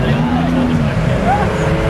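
Nissan 240 at a car meet, engine revving as its tires spin and the rear fishtails, heard nearby under excited talk from people close by.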